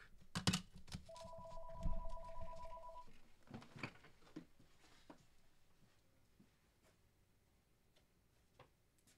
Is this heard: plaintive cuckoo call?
no